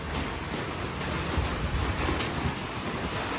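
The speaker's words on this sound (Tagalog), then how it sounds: "Lakas kasi ng hangin mga kalingap." Strong typhoon wind sweeps through Baguio, a steady broadband roar with rising and falling gusts across the whole stretch and no voices.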